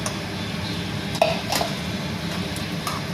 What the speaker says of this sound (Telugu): ఆ కోరియాండర్ పొడిని వేసుకోవాలండి. వేసుకుని బాగా కలపాలి.